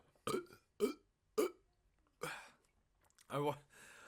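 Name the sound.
burp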